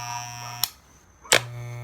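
Loud hair clippers buzzing with a steady electric hum, cut off briefly by two sharp clicks as they switch off and back on, close and with no talking.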